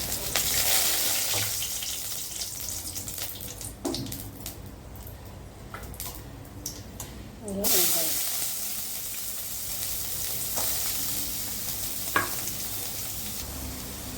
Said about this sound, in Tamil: கொஞ்சமாக எண்ணெய் ஊற்றி கடுகு போட்டு கொஞ்சம் காஞ்ச மிளகாய்